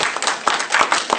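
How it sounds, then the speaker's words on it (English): An audience at a political speech claps in a short burst of fairly loud, close clapping with a few distinct hand strikes standing out. "you can clap"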